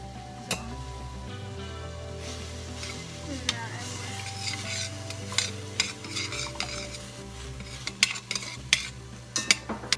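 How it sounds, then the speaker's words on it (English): Sofrito sautés in an Instant Pot set to sauté, giving a steady low sizzle with the scrape and clink of a utensil stirring against the metal pot, sharper taps growing more frequent toward the end. "we're going to put it on saute and put about 2 teaspoons of the sofrito in"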